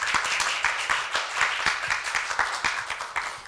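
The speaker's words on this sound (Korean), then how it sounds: "모두 큰 박수로 맞이해 주시기 바랍니다." Audience applause at a university liberal-arts festival event as a speaker is welcomed to the stage, a steady dense patter of many hands clapping, moderately distant and unbroken with no voices over it.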